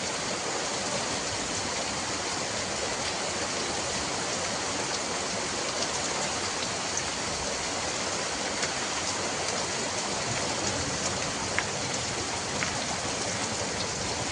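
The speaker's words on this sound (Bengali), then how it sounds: "মেঘ ভাঙা বৃষ্টি, আর এই মেঘ ভাঙা বৃষ্টির মধ্যে একেবারে মানে বর্ষাকাল যে এসে গেছে তার একটা নিদর্শন" Heavy monsoon cloudburst rain pours down steadily, a dense, loud, unbroken hiss of drops on surfaces lasting the whole stretch with no voices.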